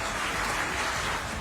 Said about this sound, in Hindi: तालियां भी बजी